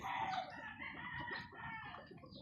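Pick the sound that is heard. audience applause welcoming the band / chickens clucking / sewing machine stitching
chickens clucking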